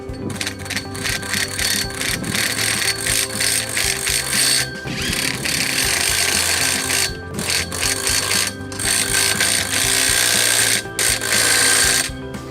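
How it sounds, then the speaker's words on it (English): A socket wrench tightens bolts on a Gallagher Mega Anchor assembly, with a continuous run of fast, close metallic ratcheting and clicking broken by short pauses. "We use the same socket we've used through the whole assembly to tighten up those bolts."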